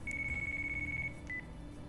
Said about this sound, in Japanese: 電話鳴ってます。